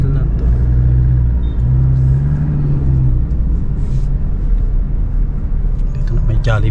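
Steady low engine rumble of a motorized tricycle being ridden, loud and close throughout, with a continuous throbbing drone and occasional voices under it.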